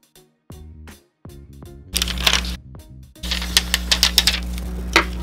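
Erin Condren decorative washi tape pulled from the roll and pressed onto a Bible page, sharp crackling peels and taps close up, with no talking.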